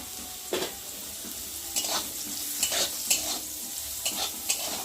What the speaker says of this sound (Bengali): এখন আমি এই যে সেদ্ধ করে রাখা সয়াবিনটাকে দিয়েও ভেজে নেব